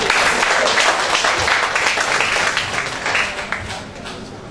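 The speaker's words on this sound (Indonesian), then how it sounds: "Beri aplaus untuk mereka semua." Audience applause at a teacher training launch event, a loud sustained wash of clapping from a large crowd that tapers slightly toward the end.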